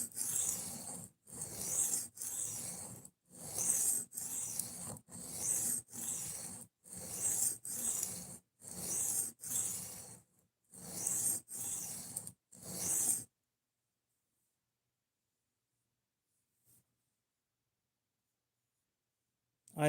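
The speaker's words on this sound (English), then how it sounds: "I personally don't like the sound of sharpening" A knife blade drawn repeatedly across a sharpening stone, about a dozen steady rasping strokes in an even rhythm, close and clear, then silence for the last several seconds.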